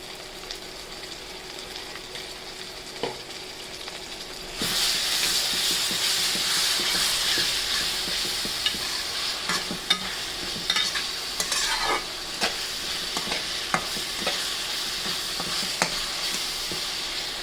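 Duck meat with ginger, garlic and onion paste cooking in a little oil in a Bangladeshi home kitchen: a steady sizzle jumps louder about a third of the way in and keeps going with stirring scrapes and occasional clinks, without talk.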